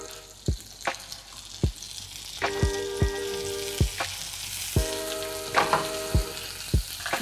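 Chicken and bell peppers fry in a pan, a sizzle of moderate loudness punctuated by regular sharp metallic clinks and scrapes of a spatula against the pan, roughly one every half second, with no one talking.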